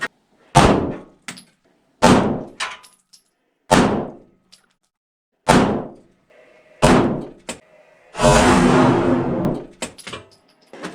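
Several loud, sharp gunshot cracks from a 9mm Glock pistol fired at a KA-BAR USMC fighting knife, about six separate reports spaced a second or two apart, each ringing off quickly, followed by a longer, noisier burst of impact clatter.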